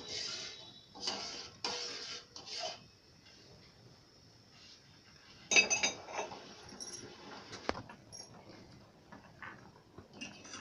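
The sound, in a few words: stirring millet payasam in a pot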